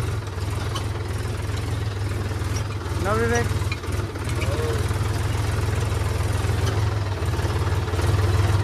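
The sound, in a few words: John Deere 5038 tractor engine, stuck in wet ground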